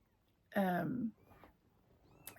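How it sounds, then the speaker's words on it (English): A single high, drawn-out kitten meow, close and fairly loud, followed by fainter squeaky sounds in a quiet room. "Her baby's meowing."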